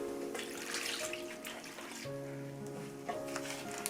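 Water poured into a jar of pepper leaves being pickled in soy sauce, a steady close pouring and trickling wash with faint gurgles that runs the whole time, no voices.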